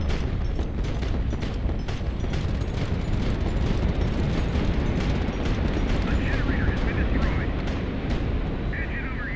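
A gun detonates in a video game amid a dense, continuous barrage of booming explosions and rapid percussive blasts, loud and sustained, with a voice talking over parts of it.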